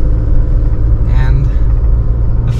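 An Isuzu D-Max 3.0-litre LSE double cab pickup drives along with a steady low engine rumble heard from inside the cabin. A brief higher sound cuts in partway through.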